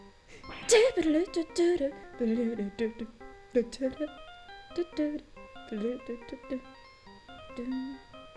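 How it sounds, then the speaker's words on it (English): A voice sings the Steel Samurai theme from the Ace Attorney video game as a phone ringtone, a bouncy, wavering melody of short repeated phrases, fairly close and moderately loud. "What is with the stupid sounding ringtone? It's not stupid! It's a Steel Samurai!"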